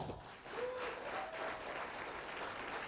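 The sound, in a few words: audience applause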